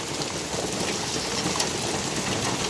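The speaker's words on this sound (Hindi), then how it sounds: "तो देखो अब और ज़्यादा ओले पड़ रहे हैं।" Hail falls with heavy rain onto a rural home and fields, giving a dense, steady, loud hiss of pelting drops with no pauses and no voices.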